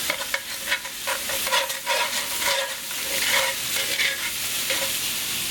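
Garlic and onions sizzle steadily in a hot pan while a utensil stirs and scrapes them around, with repeated scraping strokes over a constant crackling fry.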